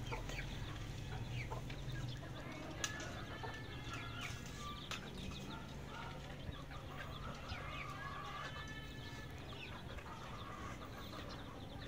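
Chickens clucking at feeding time on a farm, a busy flock giving frequent overlapping clucks and calls against a steady low background hum, with no voices.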